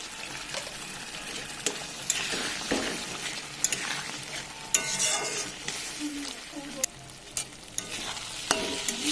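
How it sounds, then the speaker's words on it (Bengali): A spoon stirs and scrapes fried potatoes with a cooked spice mix, salt and turmeric in a hot pan, giving irregular clacks and bursts of sizzle over a steady frying hiss, with no voices. "মশলাটা আমার ভালো করে কষানো হয়ে গেছে, মশলা থেকে তেল ছাড়তে শুরু করেছে"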